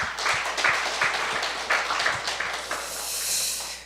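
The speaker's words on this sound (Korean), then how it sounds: "영광의 박수 올리겠습니다" Applause from a church gathering of ministers in Namwon, a dense wash of hand claps with a few sharper individual claps standing out, steady and moderately loud and close for several seconds, then thinning into a softer hiss.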